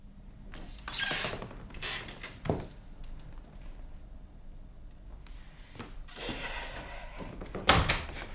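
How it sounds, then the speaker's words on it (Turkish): Someone knocks on a door indoors, a few separate thumps spread across a quiet room with faint movement between them. "hani balıklar Erman'la Şansal uygunsuz vaziyetteyse toparlansınlar kendilerine gelsinler diye kapıyı vuruyorum ya."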